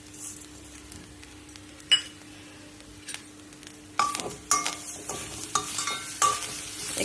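A spoon stirs a mixture of puran, grated coconut and sugar in a pan. It starts quiet with occasional scrapes, then louder clinking, scraping strokes come in irregular bursts, with no talking.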